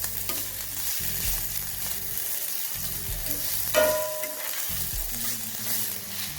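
Garlic sizzles in a hot pan for a lasagne sauce, a close crackling fry with stirring scrapes in bursts, and nobody speaking.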